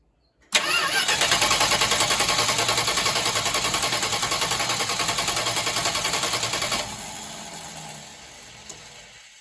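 A Dart car engine with fuel injection cranks and catches abruptly, then runs loudly with a fast, steady pulsing beat for several seconds before cutting off and going quiet.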